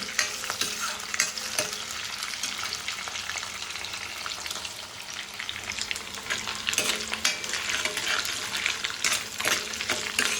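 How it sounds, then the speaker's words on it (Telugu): Fenugreek seeds, soaked briefly in hot water, fry in hot oil until golden, giving a steady, close sizzle with scattered crackles and no voices throughout. "ఇవైతే వేగుతున్నాయి కొంచెం గోల్డ్ కలర్ వచ్చే వరకు వేపుకుంటే సరిపోతుంది"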